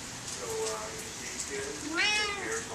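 A male house cat meows a few times on a rainy night, with a longer, louder rising meow near the end, close by, while rain hiss fills the background and a person speaks nearby.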